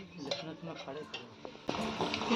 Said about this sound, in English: Salt is added into it and stirred properly.